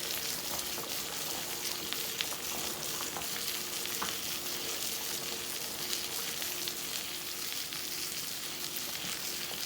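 Pinto beans cooking with pigtails and onion in a pot give a dense, steady bubbling hiss, close and constant, with faint scrapes of a spoon stirring through, no speech.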